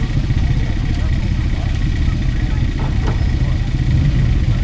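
Yamaha and BSA motorcycles ride past in the show arena at the Netley Marsh Steam and Craft show, their engines giving a steady, close, continuous rumble, with voices talking over it.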